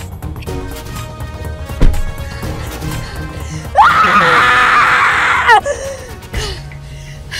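A loud scream in an Indonesian drama scene bursts out and holds for about two seconds midway, over background music, followed by a brief sharp cry.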